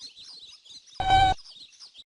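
Small birds chirp in short high twittering calls throughout, faint and continuous, broken at one point by a brief louder burst of another sound.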